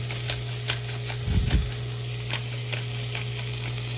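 Onion frying in oil for beef chili and being stirred, a steady sizzle with a louder burst of scraping and spattering near the middle, no voices.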